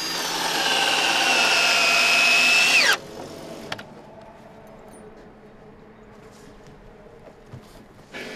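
A power driver whines loudly for about three seconds as screws go into the end grain of wooden trimmer beams in a timber roof frame, rising in pitch before cutting off abruptly, followed by quiet workshop ambience with a couple of faint knocks.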